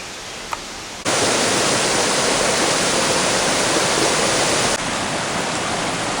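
The Cascade Bras Rouge waterfall on Réunion roars close and loud, a steady broadband rush that cuts in abruptly after a quiet second and drops slightly near the end.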